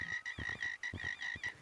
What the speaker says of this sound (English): A little frog.